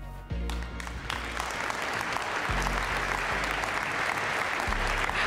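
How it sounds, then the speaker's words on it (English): An audience applauds steadily after an animated film premiere at the COP26 climate summit, the clapping swelling quickly and holding loud and dense throughout. "And that round of applause you got as well."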